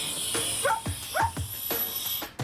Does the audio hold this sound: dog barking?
yes